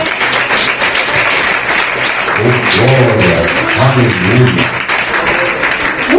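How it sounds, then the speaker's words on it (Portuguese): A church congregation clapping in praise during a worship service, steady continuous applause with voices singing or calling out over it throughout. "Te agradecemos, te louvando com palmas em nome de Jesus."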